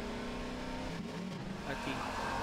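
Vehicle engine roaring and revving as turbo boost kicks in while driving a buggy along the coast road in Half-Life 2, steady throughout with a voice speaking over it.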